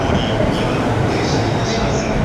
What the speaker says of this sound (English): we can actually see on the board here, our train's approaching